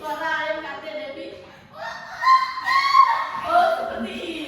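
A person mimics the call of a bantam chicken, a shrill, harmonic, crowing-like voice rising and wavering over several seconds, close and fairly loud.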